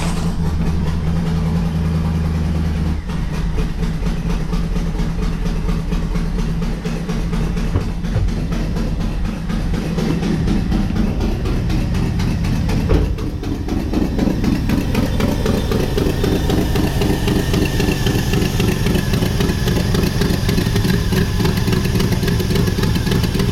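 A car engine with a freshly installed Comp Cams camshaft, a 2006 build, runs steadily and loudly with a massive driver's-side exhaust leak, giving a continuous rough, ticking chop close up for the whole stretch with no talk.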